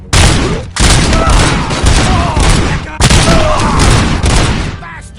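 Heavy gunfire from the Robocop Rogue City video game on PS5 rages almost nonstop, with dense overlapping bursts and booms, a brief drop before the first second and another just before the third, all loud and close.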